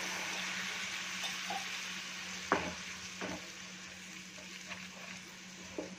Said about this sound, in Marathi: आता आपण याच्यामध्ये थोडंसं पाणी घालणार आहोत